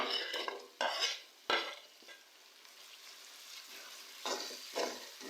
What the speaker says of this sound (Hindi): टमाटरों को भी हम इसके साथ अच्छी तरह से मिक्स करेंगे।